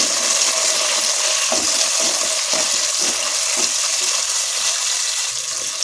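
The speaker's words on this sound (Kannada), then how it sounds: "ಟೊಮೆಟೊನೂ ಅಷ್ಟೇ ನೀಟಾಗಿ ಬಾಡಿಸಿ" Tomato sautéing in a pan for bisibelebath, following capsicum: a steady, close sizzle with soft stirring scrapes throughout, no voice.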